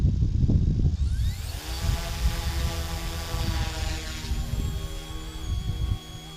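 A small RC UH-1 Huey helicopter flying over snow whines overhead, its high motor pitch rising and shifting over steady wind rumble, buzzing continuously nearby.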